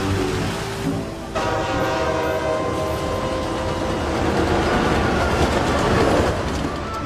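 A passenger train rolls along steadily, a loud continuous rumble with rhythmic wheel clatter and a sustained horn-like tone early on, growing slightly heavier toward the end.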